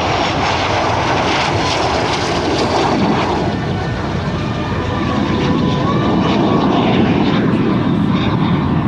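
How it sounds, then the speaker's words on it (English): A fast airplane at a NAS Oceana naval air station airshow roars past loudly and steadily in a continuous engine drone, with a voice briefly heard beneath it. "Now Alan's going to take this airplane all the way around, bring it back in from the right."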